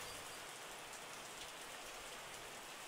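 Steady rain falls in the video game Terroir, a constant soft hiss of drops on a surface, even and unbroken with no voices.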